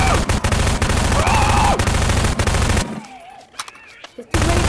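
Rapid, dense gunfire bursts from several weapons, including an SMG, in the sandbox video game Garry's Mod rattle loudly for about three seconds, then drop to a quieter stretch with a voice before the firing resumes.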